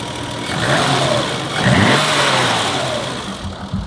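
A BMW E30 325i engine revs up and settles, a steady mid-pitched drone that swells around the middle, heard close from inside the car.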